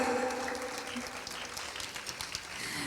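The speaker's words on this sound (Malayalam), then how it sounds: "സിറിൽ ബ്രദറിന് നല്ലൊരു കൈയടി കൊടുക്കാം." Applause from a church congregation at an anniversary gathering, steady clapping from many hands filling the whole stretch at moderate level, with no talk over it.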